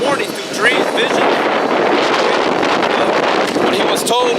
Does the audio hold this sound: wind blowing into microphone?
yes